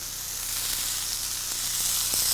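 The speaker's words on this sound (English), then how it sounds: "lay those steak strips right there on the grill and hear that sizzle" Steak strips sizzle loudly and continuously on a hot George Foreman grill, a dense crackling hiss with occasional small pops and no voices.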